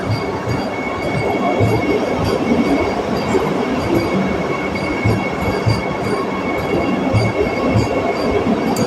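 The New Jalpaiguri to Guwahati Vande Bharat Express runs on the rails with a loud, continuous rumble and clatter of wheels. Faint squeals sit under it, and no one talks.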